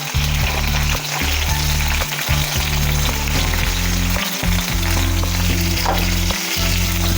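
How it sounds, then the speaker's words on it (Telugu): Halved ripe red chillies fry loudly in hot oil in a pan, a dense continuous sizzle with bursts of crackle and faint stirring scrapes, steady and close throughout. "ఇప్పుడు ఇందులో నేను పండు మిరపకాయలు వేసుకుంటున్నానండి"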